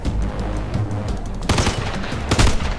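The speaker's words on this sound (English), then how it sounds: "Who was shooting?" Rapid automatic gunfire in the military shooter game Ghost Recon Future Soldier, with loud dense bursts and sharper louder volleys near the middle and end, and no clear speech.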